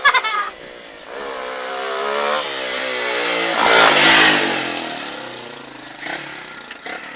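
A motorcycle engine revs steadily, rising to a louder peak midway before settling back to a throaty, sustained drone.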